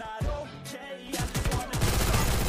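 Rapid bursts of video game gunfire ring out in a shooter, starting faint and building into a dense, loud volley of repeated shots during the second half, with no talking.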